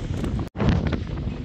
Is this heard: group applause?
no